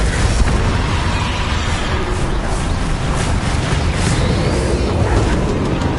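A Confringo explosive spell from Hogwarts Legacy bursts with a dense, sustained roar of blasts and crackling debris, loud and continuous throughout with no pause.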